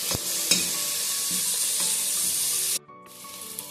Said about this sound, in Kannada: ಈ ರೀತಿ ಚೆನ್ನಾಗಿ ಫ್ರೈ ಮಾಡ್ಕೋಬೇಕು ಸ್ವಲ್ಪ ಟೊಮೊಟೊ ಬಾಡೋವರೆಗೆ ಫ್ರೈ ಮಾಡ್ಕೋಬೇಕು